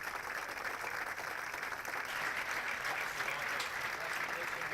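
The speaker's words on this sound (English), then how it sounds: "please join us in a round of applause for Mr. Jim Rowan" Football crowd at a Hope vs. Adrian NCAA Division III game applauding Navy veteran Jim Rowan, a broad, steady roar of distant clapping filling the stadium throughout.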